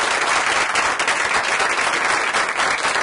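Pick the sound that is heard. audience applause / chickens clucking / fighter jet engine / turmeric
audience applause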